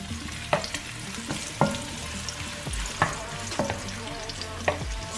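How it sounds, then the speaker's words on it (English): Chopped onion fries and sizzles in a pan for a pasta al pomodoro, a continuous crackling hiss broken by several clattering stirs of a utensil against the pan, close and fairly loud, with no voices. "I love the smell of frying onion."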